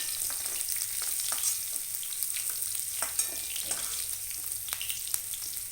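Onions frying steadily in hot oil in a home kitchen, a constant close crackling sizzle with small pops and faint scraping throughout, no voices.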